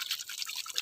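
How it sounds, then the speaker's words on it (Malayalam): Hands being rinsed under running water during a cycling outing with friends, a brief, quiet run of splashing and dripping with no voices. "ഇനി കൈ കഴുകുന്നുണ്ട്."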